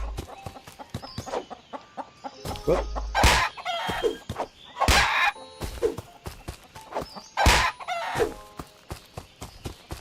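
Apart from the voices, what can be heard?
chickens clucking, from a video game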